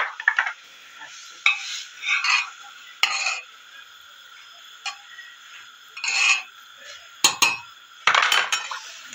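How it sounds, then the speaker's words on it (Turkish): A spoon scrapes and clinks against a pot in irregular bursts as umaç soup is stirred. Quieter pauses come between the strokes. "Karıştırayım çorbayla."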